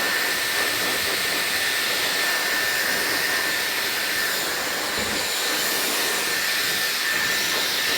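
Dyson hair dryer blowing at full power: a loud, steady, airy whoosh with a high whine running unbroken for the whole stretch, close by and with no talking over it.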